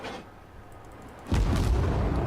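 Warship guns fire in World of Warships during destroyer combat: after a second of quiet low rumble, a sudden heavy boom hits and rolls on loudly to the end.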